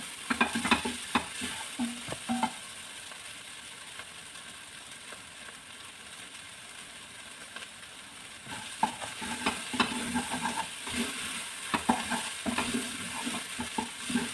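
Tomato paste stirred into a sizzling pan of Arabic masagaah, with a steady frying hiss and scraping stirs that come in clusters near the start and again in the second half.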